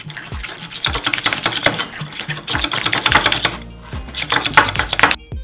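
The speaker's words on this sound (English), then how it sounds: "we're just going to give that a quick whisk" Room temperature cream cheese being whisked briskly in a bowl makes rapid, rhythmic clicking and scraping strokes, close and loud, in three bursts separated by short pauses.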